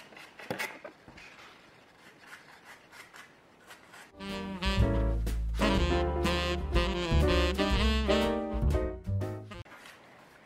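A dry bristle brush scrubs white gouache onto corrugated cardboard for a handmade scrapbooking card, with rough rasping strokes over the first few seconds before louder music takes over.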